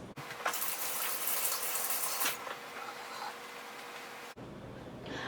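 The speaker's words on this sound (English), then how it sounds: "I'm going to go rinse off my hands" Tap water gushes into a sink while hands are rinsed under it, a loud close steady stream that splashes brighter at first and then settles, briefly cut before flowing on.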